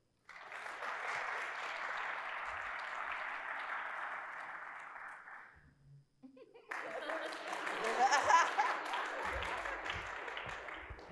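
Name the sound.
audience applause as host comes to podium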